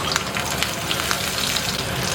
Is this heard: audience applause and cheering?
no